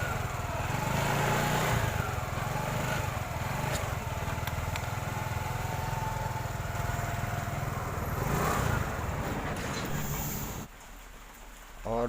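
TVS Jupiter classic scooter engine running after being refitted, a steady, close buzzing idle drone with a faint rattle that holds throughout before dropping slightly near the end.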